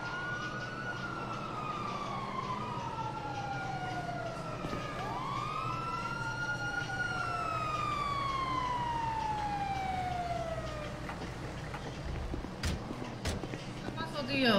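A video game ambulance siren in GTA 5 wails in long rising and falling sweeps, loud and close, before fading into scattered clatter and noise near the end.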